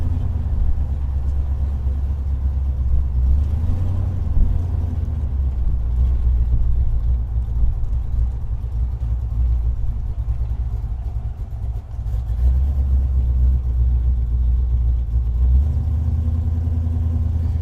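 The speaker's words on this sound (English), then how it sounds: "there's a pretty amazing line of cars heading up the mountain." A steady low rumble of a line of old cars driving up a mountain together on a cruise, continuous and fairly loud, with no voices.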